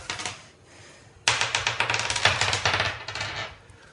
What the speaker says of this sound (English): Just roll one dice.